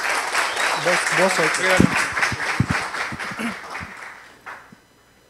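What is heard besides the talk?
audience applause for the speaker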